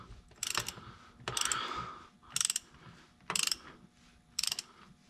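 A bolt being turned with a ratchet on the brake of a John Deere 6400 tractor, short bursts of rapid clicking repeated five times in a steady rhythm, close and fairly quiet with no speech.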